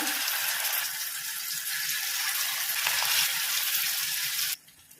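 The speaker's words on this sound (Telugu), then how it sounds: "ఆయిల్ వేడయ్యాక ఇలాగే కరివేపాకులు ఉన్న సైడ్ని ఇలా పెట్టేసుకోవాలి" Fish pieces frying in hot oil on a layer of curry leaves: a loud, steady sizzle and crackle that suddenly drops to near quiet at the end.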